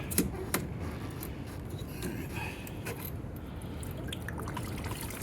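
Coolant spills from an unclamped hose onto a dirt floor, a steady low splashing trickle with a few drips, moderately quiet and close, continuing throughout without talk.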